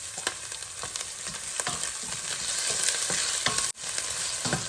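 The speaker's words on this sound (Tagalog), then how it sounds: "let's start saute our onions. And then next na natin yung ating garlic" Onions and garlic sizzle in hot cooking oil for chicken feet arroz caldo, a steady bright frying hiss with occasional stirring scrapes and a brief break near the end.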